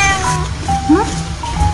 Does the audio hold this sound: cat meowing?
yes